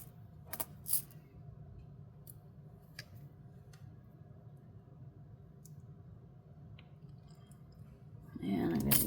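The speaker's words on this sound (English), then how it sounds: "And we're going to snip that off with our flush cutters." Flush cutters snip the end of a wire head pin while a bead necklace is made: a few sharp, close metallic clicks stand out against a quiet room, with a rustle of handling at the end.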